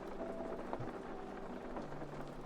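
Steady rain falls as a continuous dense hiss, heard indoors at moderate volume with no pauses and no voices.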